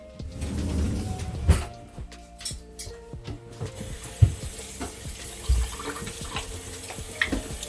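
Tap water runs into a kitchen sink while a lemon is washed under it, a steady close stream broken by a few clinks and knocks against the basin.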